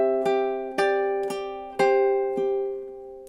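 Ukulele lullaby passage: five or so plucked chords and notes in a steady waltz-like rhythm, each ringing into the next, close-miked and solo without talking.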